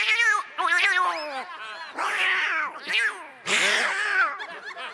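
A person imitates cats meowing with the mouth, a run of wavering, drawn-out meows and yowls that rise and fall in pitch, close and loud with short pauses between calls.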